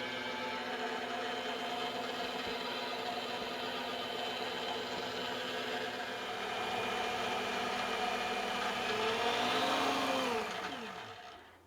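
An electric mixer beats pound cake batter studded with crushed Oreo cookies in a bowl. A steady, close motor whir runs on unbroken, rising slightly before winding down at the end.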